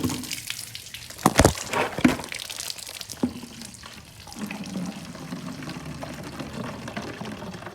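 Coolant pours and splashes out of a KTM SX-F motorcycle radiator after a fitting is opened, a nearby burst of gushing liquid in the first half that settles into a steady low trickle.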